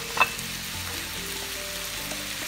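Onions with red and green peppers hitting a hot pan for fajitas, a close, steady sizzle with a brief clink of stirring near the start.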